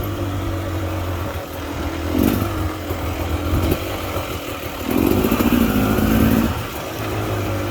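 A 2022 Beta Xtrainer dirt bike with a fatty pipe climbs over rocky cliffside terrain, its engine droning steadily up close and surging into a louder rev for a couple of seconds before settling back.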